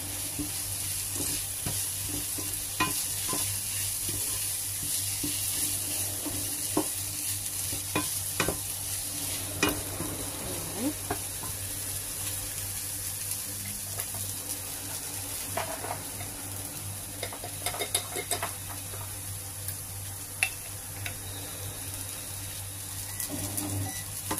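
Steady sizzle of cabbage and potato curry frying in a pan, with a spatula stirring and scraping throughout, continuous and close with no talk.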